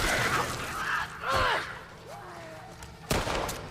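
Two sharp, loud gunshots, one early and one near the end, fired while fighting stalkers and a clicker in The Last of Us Part 2 on PC, with tonal creature-like cries and background ambience between them.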